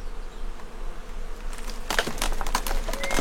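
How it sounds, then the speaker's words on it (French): A large swarm of bees inside a decaying abandoned building, a steady low hum at first, then a louder, closer burst of buzzing and rustle toward the end. "Ça fait penser à genre un gros essaim d'abeilles"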